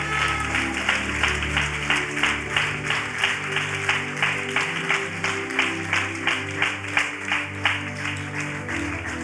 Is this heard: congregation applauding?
yes